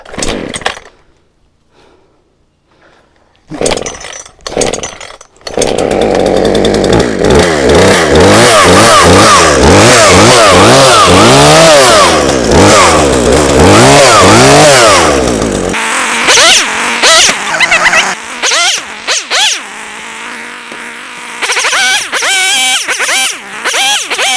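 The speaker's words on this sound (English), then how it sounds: "See if the chainsaw will start." A few sharp pulls and sputters, then a chainsaw for cutting tree limbs roars to life, loud and close, revving up and down before settling into a rougher idle.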